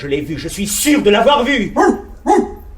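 Papillon, a dog, gives a couple of short barks in quick bursts near the end, heard over steady spoken dialogue in French.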